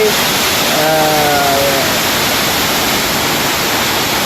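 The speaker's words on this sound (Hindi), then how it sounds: "ये कुदरती आबशार है जहाँ ये दूर से पहाड़ों के ऊपर से पानी आ रहा है।" A natural waterfall pours down from the mountains as a loud, dense, unbroken roar of rushing water, with a faint brief tonal call rising through it early on.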